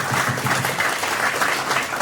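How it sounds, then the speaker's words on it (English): An audience at the NDIM 32nd Congress breaks into sustained applause, a thick, even roar of clapping from many hands filling the hall without any talk over it. "Give a big applause on the 32nd Congress"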